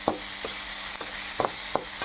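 Onions, garlic and tomatoes frying in a pan, a soft continuous sizzle with several distinct stirring scrapes at irregular intervals, close by and with no voices.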